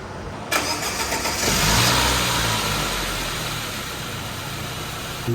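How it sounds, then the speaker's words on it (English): A Saab 900 engine cranks and catches after an oil pan job, revs briefly, then settles into a steady, low idle close by. "We're just letting the car run."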